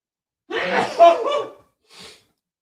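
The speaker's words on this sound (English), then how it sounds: "He sounds like a cartoon when he sneezes." A person lets out a loud, cartoonish sneeze with a drawn-in breath, followed by a short softer exhale or snort.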